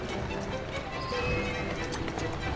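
Horse hooves clip-clop steadily as a carriage rolls through the streets of Victorian London in Assassin's Creed Syndicate, over a busy game soundscape with voice-like sounds mixed in.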